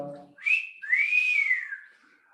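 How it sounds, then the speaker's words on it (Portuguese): A person whistling two clear tones, a short rising note then a long sustained gliding one, close and loud against near silence after a brief low sound at the start. "Assoviei para ela desde o quarto andar."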